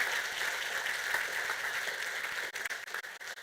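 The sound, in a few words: audience applause for donors at fundraiser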